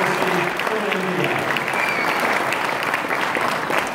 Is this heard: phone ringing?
no